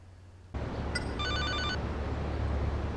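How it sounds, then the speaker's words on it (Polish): A video game phone rings in GTA Liberty City Stories, a repeating electronic trill in short pulses over a steady background hum, with no talk. "Pominąłem telefon jakiś."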